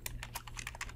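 Someone types a project name on a computer keyboard, a quick, irregular run of light key clicks heard up close and fairly quiet over a low background hum.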